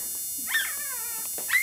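A five-day-old black and tan female Doberman puppy, newborn with tail docked and dewclaws removed, gives two short, thin, rising whimpers close by, the second one brief and higher.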